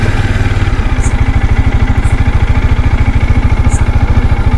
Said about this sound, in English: Now starting the engine.